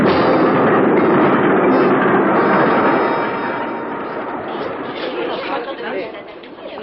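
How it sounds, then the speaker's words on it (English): A train rumbles and rattles into a railway station under a busy murmur of crowd chatter, the noise easing slightly toward the end. "They're pulling into the railway station."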